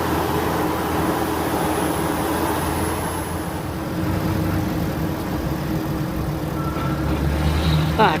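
Passing PO Aladdin bus on a road toward Gunung Ciremai, heard as a steady, fairly loud engine and road rumble that holds through the clip and swells slightly at the end, with no talk.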